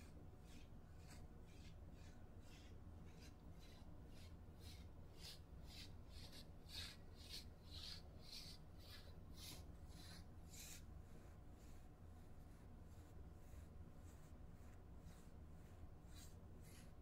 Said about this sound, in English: I got two combos, you know, rub them together.